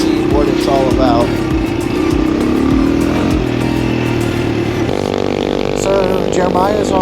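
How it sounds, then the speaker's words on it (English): A small SSR dirt bike engine runs loud and close throughout, buzzing steadily with slight rises in pitch, while a person talks over it. "Hopefully you can hear me over how loud that little bike is."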